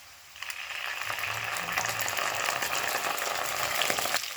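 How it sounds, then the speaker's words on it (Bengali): Ginger-cumin paste with fried potatoes sizzles in a pan over a low flame, a steady crackling hiss that starts abruptly and holds throughout, close and moderately quiet with occasional spatters. "আদা জিরে বাটাটা দিয়ে 30 থেকে 40 সেকেন্ড ভেজে নেব।"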